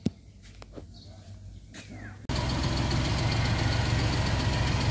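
A Suzuki F6A engine, just repaired with a new fuel pump after a crank-no-start fault, turns over after a few quiet clicks and bursts into a loud, steady idle that continues to the end.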